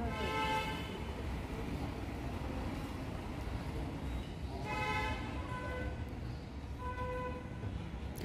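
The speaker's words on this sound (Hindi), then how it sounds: "वो गाड़ियों की आवाज सुनाई दे रही है।" Vehicles pass on a road near a forest palace in Udaipur, horns honking several times in distinct toots over continuous faint traffic noise, heard from a short distance.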